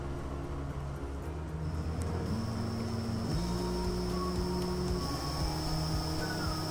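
A 1000W 48/60V BLDC e-bike motor runs in reverse with a steady electric whine that steps up in pitch partway through, over a continuous low hum, close and fairly loud.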